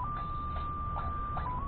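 A faint, steady electronic tone from a JJRC toy drone hums under background noise, with soft repeated blips.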